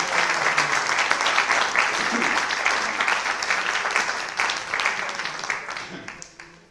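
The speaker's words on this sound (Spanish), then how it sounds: "le demos un gran aplauso para que entre en calor" Audience members at a science week talk give a warm round of applause to welcome the speaker, a steady, fairly close burst of many hands that tapers off at the end.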